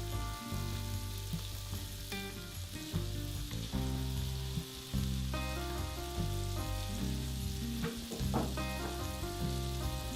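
Wild boar burgers fry three at a time in fat in a pan on a wood stove, giving a steady, close sizzle that runs unbroken throughout, with sustained tonal sounds in the background.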